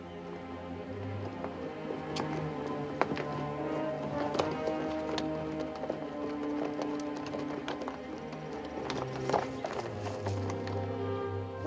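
Hooves clip-clop at a steady walking pace on a hard surface, a rhythmic string of clear knocks that stays at moderate distance.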